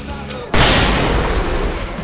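Fireworks burst in Alan Wake Remastered: a sudden loud blast after a quiet half-second, then a sustained crackling roar of exploding shells that fills the rest of the moment.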